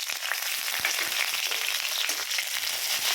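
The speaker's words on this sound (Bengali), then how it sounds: "এবার কালো জিরে, কাঁচা লঙ্কা ফোড়ন দেব।" Black cumin seeds and green chillies tempering in hot mustard oil, giving a steady close, bright sizzle that crackles unbroken from start to finish, with no voices over it.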